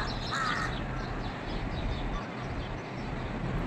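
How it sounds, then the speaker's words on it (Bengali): House crows caw repeatedly outside a riverside resort window in the morning, harsh calls rising over steady background noise with no talk. "পাতি কাক আছে"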